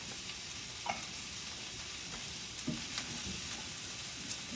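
Carrots and celery stir-fried in oil in a pan for pork chow mein, a steady soft sizzle with a few light scrapes and taps of stirring scattered through, no talk.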